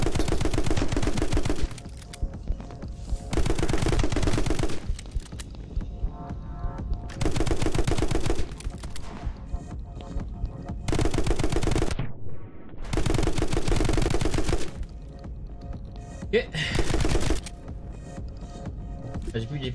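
Gunfire in the video game My Friend Pedro, long bursts of rapid automatic shots alternating with brief pauses, loud and close, with someone talking at times between and over the bursts.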